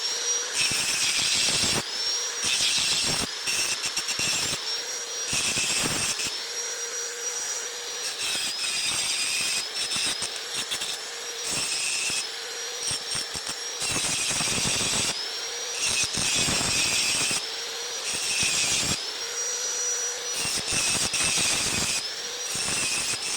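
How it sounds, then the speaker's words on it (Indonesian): An angle grinder whirs against knife steel made from a reused spring, with water on hand for cooling, in repeated loud, close bursts of high whine that cut off and start again. "Saya akan putihkan dengan media gerinda, tapi harus ada sedia air seperti ini supaya kadar sepuhnya nggak menurun ya."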